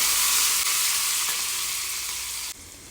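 Steady, bright sizzling of tempering spices in hot oil for a thin dal, loud and close, continuous for a few seconds before dropping suddenly quieter near the end as the stove is turned off.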